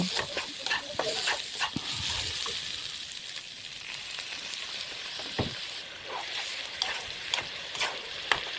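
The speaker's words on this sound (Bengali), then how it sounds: "এভাবে নাড়তেই থাকবো, না নাড়লে সেটি দলা দলা হয়ে আসবে।" A spatula stirs vegetable semolina pulao in a pan, with a continuous moist sizzle and a steady run of close scraping strokes, plus one louder knock partway through.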